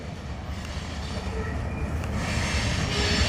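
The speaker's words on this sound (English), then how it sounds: "this Norfolk Southern southbound long mixed freight train in Marion, Ohio" A long Norfolk Southern mixed freight train heading south through Marion, Ohio, rumbles past at close range, a steady low roar of wagons with rising noise and no voices.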